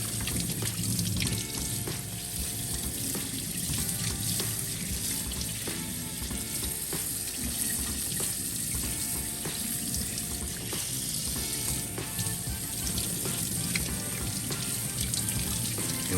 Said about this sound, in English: I rinse all the stuff off. So in other words, you wash your meat.